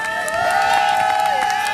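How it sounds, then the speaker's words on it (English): A crowd at a Detroit park event cheers and claps with whoops for a police chief, while a sustained tonal sound, like music or feedback, rings over the noise. "Round of applause, please, for Police Chief Craig."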